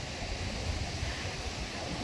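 Pacific Ocean surf rolls in at Venice Beach, California, a steady broadband wash of breaking waves mixed with gusty wind buffeting the microphone, continuous throughout with no pauses.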